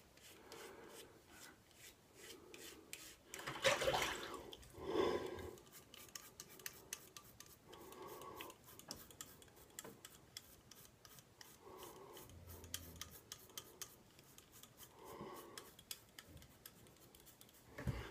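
A Gillette Guard razor with a pivoting head scrapes under the neck in soft, faint, repeated strokes, with a few slightly louder rasps.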